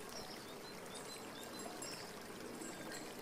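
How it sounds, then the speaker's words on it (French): Countryside river flowing steadily, a soft continuous watery rush and trickle, faint and even throughout, with no voices. "Et vous êtes bercé par le bruit de la rivière qui coule."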